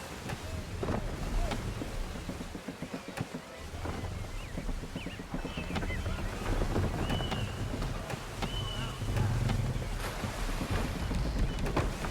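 A sailing ship in the Assassin's Creed III game moves through shallow water with steady wash and wind noise, low creaking and occasional splashes throughout, fairly quiet and continuous.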